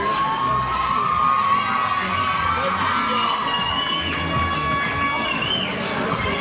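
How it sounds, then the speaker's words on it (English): A boxing crowd roars and cheers as a local fighter walks to the ring at an Australia versus USA bout, a dense, continuous wall of shouting and whoops with high-pitched yells, loud throughout. "What a roar for the local."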